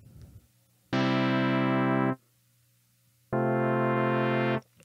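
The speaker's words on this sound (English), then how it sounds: "I can bring the filter in and out here with the first macro." Two sustained sawtooth synth notes from a Novation Circuit, each lasting just over a second with a brief gap between, bright and buzzy with a steady low hum underneath and no talking.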